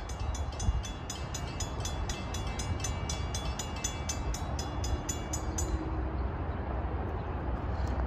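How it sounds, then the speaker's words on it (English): A CSX intermodal freight train running from Jacksonville to North Bergen, New Jersey, approaches with a steady low rumble of rolling cars and a rhythmic high clicking that fades toward the end, heard from outdoors at moderate distance with no voices. "approaching at 1:30 is CSX train I032-28, Jacksonville to North Bergen, New Jersey"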